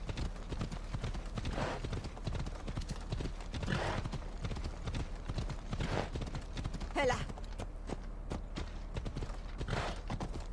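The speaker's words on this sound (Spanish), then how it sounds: "Maldito caballo que no esquiva bien las piedras." Galloping horse hooves in the Assassin's Creed Odyssey video game, a steady rapid clip-clop throughout with a brief whinny midway, heard under game ambience and occasional voices.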